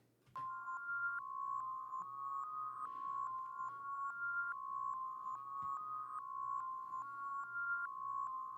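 A reversed, rendered audio sample in a beat plays a steady, looping pattern of soft, bell-like tones over a low hum for about eight seconds, faint and even, with no talk.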